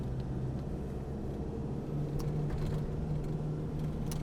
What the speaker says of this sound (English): just to see what it sounds like on a rough road like this